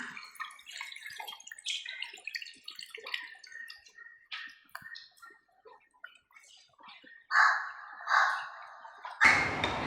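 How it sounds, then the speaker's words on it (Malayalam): Tamarind water splashes into a pot of roasted-coconut stingray curry in a Kerala kitchen, with faint clinks and drips at first, then a few louder pouring bursts near the end. "ഒരു നെല്ലിക്ക വലിപ്പത്തിലെടുത്ത പിഴുപുളി നമുക്ക് ഇതിനകത്തേക്ക് ഒഴിക്കാം."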